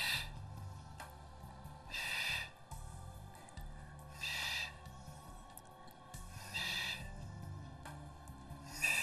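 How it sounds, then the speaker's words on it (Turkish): Deep breaths drawn during a pilates exercise session, several audible inhale-exhale bursts repeating in a slow, regular rhythm every couple of seconds over a quiet background hum. "Nefes alıyoruz."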